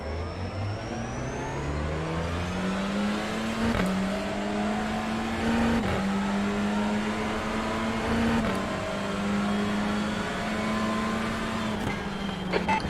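Race car engines at the start of a race in the iRacing sim game, a loud sustained engine drone with rising revs and repeated gear-change steps, steady and close.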